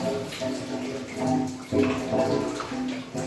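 A pool sand filter with a multi-port valve set to rinse, water rushing and gurgling steadily with surges and splashy swells, moderately loud and close.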